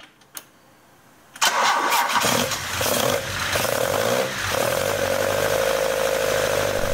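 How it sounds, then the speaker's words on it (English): A 2014 Alfa Romeo Giulietta sports car in a garage cranks and fires up, then its engine revs and settles into a loud, steady idle close by, with no talking. "going to the garage and giving the engine some gas to live on"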